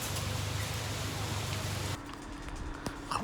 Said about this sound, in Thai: เดี๋ยวรอฝนหยุดครับ